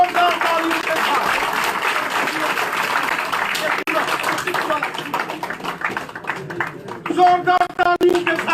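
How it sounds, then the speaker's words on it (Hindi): Applause greets former minister Mushtaq Bukhari as he is welcomed into a party office, a crowd clapping steadily at moderate volume with voices and announcements running over it, the clapping thinning near the end. "जोरदार तालियों के साथ"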